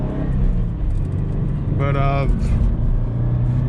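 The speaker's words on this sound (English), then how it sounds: "Look at these cars, what are they doing?" Cars driving past on a road, a loud, steady rush of traffic noise that swells briefly in the middle, with a person talking over it.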